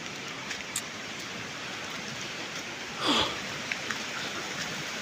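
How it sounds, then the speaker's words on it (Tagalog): Steady rain falls outdoors by a swollen, muddy-yellow river running down from the mountains in bad weather, a dense even hiss throughout with a few louder splashes and a brief swell in the middle. "Umuulan. Masama yung panahon ngayon."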